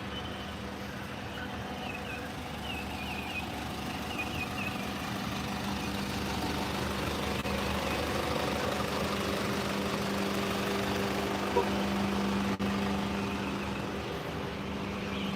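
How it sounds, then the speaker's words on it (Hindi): A garbage truck's engine runs at an outdoor spot at dawn, a steady low idling rumble that holds unbroken the whole time from a modest distance, fairly quiet. "ये मेरे पीछे गार्बेज वाला ट्रक है"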